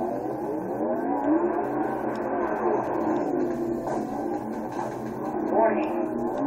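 Vehicle engine in the online shooter Dust 514, a steady mid-pitched hum rising into a rev near the end, heard under game noise with some voice-like sounds mixed in.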